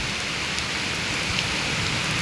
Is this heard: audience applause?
no